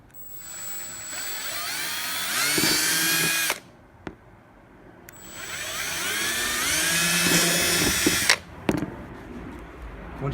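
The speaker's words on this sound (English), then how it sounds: "you're going to drill some holes in the plastic" Power drill boring holes in a plastic motorcycle fender, two long whining bursts, each rising in pitch, with a short pause between them and a sharp click as each run stops.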